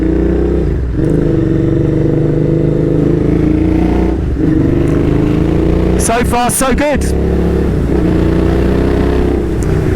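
Royal Enfield custom collaboration motorcycle engine while riding, a steady loud droning exhaust note with a brief burst of revving partway through, and a rider talking briefly over it.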